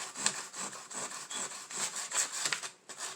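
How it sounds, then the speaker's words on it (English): Dollar Tree sandpaper scrapes back and forth over a craft piece in quick, rhythmic rubbing strokes, close and fairly loud, with no talking. "Trying to sand this down where I put too much"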